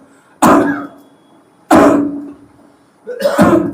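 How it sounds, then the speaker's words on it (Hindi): Three loud, separate coughs spaced a second or so apart, each a sharp open-mouthed burst during a yoga breathing exercise, close up with quiet gaps between. "जैसे मैं खांस रहा हूं मुंह खोल कर"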